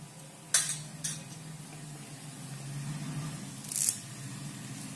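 Mustard seeds and cumin dropped into hot oil in a pan while cooking masala idli, giving a steady low sizzle with a few sharp metallic clinks and scrapes of a spoon against the pan, close up and without talk.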